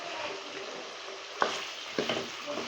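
Chicken for white karahi frying on high flame, a steady sizzle with a couple of sharp stirring scrapes partway through and no talking.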